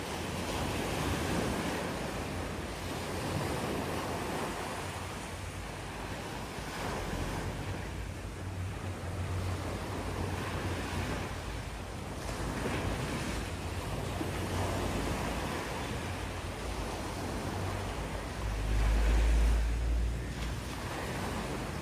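Sea waves at sunrise, steady surf rolling and washing ashore under continuous wind noise, no voices.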